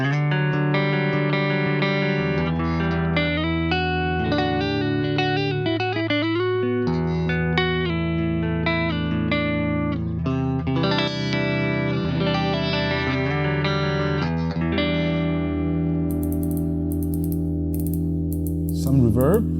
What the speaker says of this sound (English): Let's add a compressor. X-Comp. So we have more sustains.